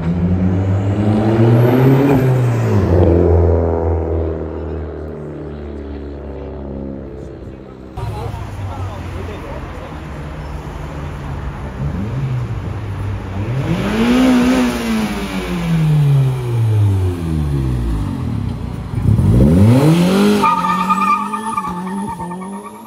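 A Chevrolet Onix revs hard and skids at a Brazilian car meet, with rising and falling engine whines, long tire squeals and repeated revving bursts, loud and close, with people shouting excitedly over it.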